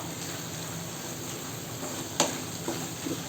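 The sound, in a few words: stirring sautéed mint chutney ingredients in a pan over medium flame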